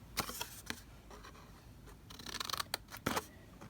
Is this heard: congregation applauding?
no